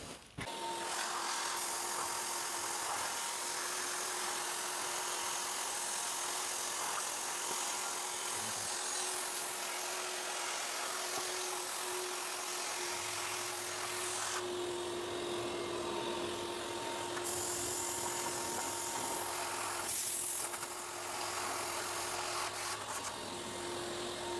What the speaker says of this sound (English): this vacuum cleaner will suck it out as you're blowing it in